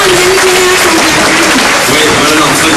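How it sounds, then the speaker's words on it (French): Crowd at an esports tournament applauding the Complexity team, a loud, steady wash of clapping and cheering that fills the whole moment, with a voice carrying over it. "On peut applaudir les Complexity."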